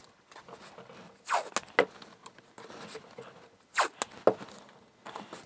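Tape is pulled off a roll during a DCC system install, giving two short, sharp zipping rips at close range amid quiet handling noises.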